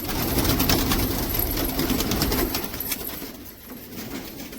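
Pigeons, including a black Chinese pigeon kept by a hobbyist in America, coo in a steady low murmur, close and continuous, with faint bird chatter and background noise.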